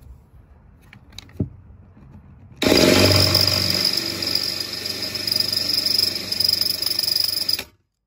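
A power drill boring holes in a Lexus IS F front splitter, a loud continuous whine starting abruptly after a few faint knocks and running steadily for about five seconds before stopping.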